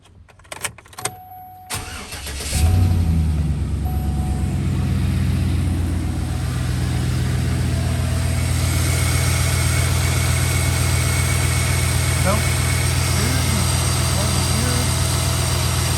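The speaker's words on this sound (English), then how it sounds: "Let's give it a crank." A 2007 Chevrolet Silverado LT engine, freshly fitted with new spark plugs and wires, cranks briefly after a few clicks, then catches and settles into a steady, loud, close idle that holds throughout.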